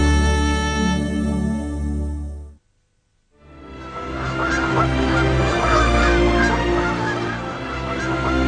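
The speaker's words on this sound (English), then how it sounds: "These birds are ptarmigans, also known as prairie chickens." Ptarmigans, also called prairie chickens, give loud honking, goose-like calls in a polar icy setting, a dense continuous chorus that cuts out to near silence for about half a second before resuming just as strongly.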